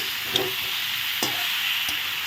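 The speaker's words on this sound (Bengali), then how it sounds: "এখন একটু ভালো করে নেড়ে কেড়ে দিচ্ছি পাঁচ মিশালি সবজি" A spoon stirs a Bengali mixed-vegetable dish of pumpkin, sweet potato and fried potato in a pan, giving a steady sizzle broken by a few sharp scrapes and clacks, with no talking.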